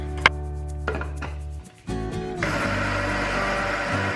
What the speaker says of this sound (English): You can use a coffee grinder and like work in a little amounts each time